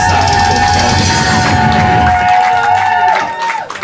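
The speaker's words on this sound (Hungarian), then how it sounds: "Szóval magatokat tapsoljátok most" Concert crowd at an underground club talent contest applauding and cheering loudly, a dense continuous wash of clapping and shouts that thins out toward the end.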